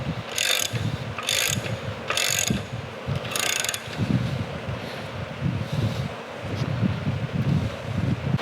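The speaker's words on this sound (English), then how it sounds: "we'll use the gear puller to put nice even pressure on it, and it's coming right off" A gear puller draws a hub off a Kalamazoo P-45 band saw during disassembly. Several loud ratcheting bursts come close together, then a steady scraping, grinding mechanical noise continues at close range.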